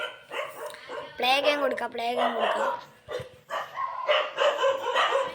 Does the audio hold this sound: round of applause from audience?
no